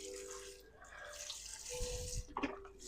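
Broth poured into a pot for a beef stew, a soft liquid splash and gurgle that swells briefly near the middle, close and fairly quiet, with no talking.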